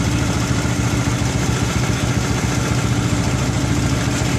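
A motorcycle engine idles steadily close by, a loud, even low-pitched throb with fast regular pulses that hold their pace throughout while the ignition timing is retarded, with no talking over it.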